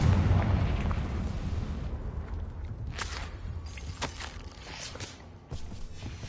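A Confringo blasting spell explodes in the Hogwarts Legacy video game, heard as a heavy boom at the start that fades into a rumble, followed by a few sharp, bright bursts and impacts.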